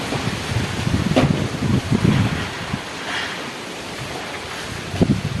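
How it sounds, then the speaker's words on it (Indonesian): Strong wind gusts rush past outdoors in Gunungkidul, a broad roaring whoosh that swells and eases over a few seconds, with occasional low buffeting thumps against the microphone. "Waspada angin."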